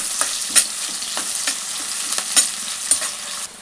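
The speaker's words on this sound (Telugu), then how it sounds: "ఫస్ట్ పచ్చిమిరపకాయలు వేసుకుంటున్నాను. ఇవి కాస్త వేగాక ఉల్లిపాయలు వేసేస్తానండి." Green chillies frying in hot oil in a pan, a close bright sizzle with sharp crackles and spits at irregular intervals, no voices.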